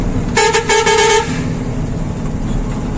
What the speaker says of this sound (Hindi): हॉर्न काफी अच्छी लगा रखी है ना भाई